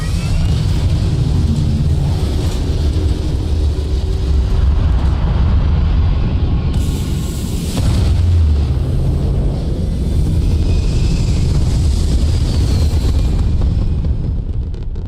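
A spaceship lifting off in Starfield, giving a continuous loud engine roar with deep rumble and hiss that holds steady for the whole stretch, surging slightly partway through, with no speech over it.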